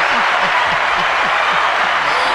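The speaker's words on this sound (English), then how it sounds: "If y'all add some hand clap applause." Listeners on a podcast set give a round of hand-clap applause, a steady, broad wash of clapping with a voice speaking over it in the low range.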